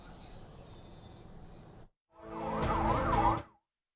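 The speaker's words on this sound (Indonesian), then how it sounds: "Ambulans terus berdatangan ke Rumah Sakit Indonesia di Bait Lahia, Gaza Utara" Wailing ambulance siren at a hospital in Beit Lahia, northern Gaza, rising loud after a brief gap following a low background murmur, then cutting off abruptly.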